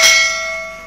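A single bright bell ding rings out clearly and decays quickly on its own.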